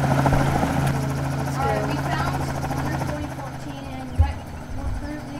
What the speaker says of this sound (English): I have a helicopter.